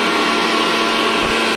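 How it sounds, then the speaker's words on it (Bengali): Electric kitchen mixer grinding roasted rice into powder, a loud, steady, high-pitched whirring drone close by, running continuously with a brief dip in pitch near the end. "মা নিয়ে নিয়েছে এখানে মিক্সার, আর মিক্সারে দেখো চালগুলো সব এরকম গুঁড়ো করে নিচ্ছে।"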